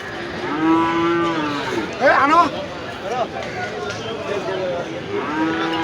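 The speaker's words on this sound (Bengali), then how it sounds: "এটা হলো সে হাইব্রিড জাতের একটা মহিষ" A hybrid-breed female water buffalo gives a deep, drawn-out low, followed by shorter grunting calls, with people chattering nearby at a busy livestock market.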